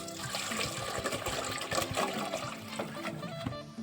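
Water poured into a cooking pot for boiling curry ingredients, a steady close splashing gush that runs continuously for a few seconds with no talk over it.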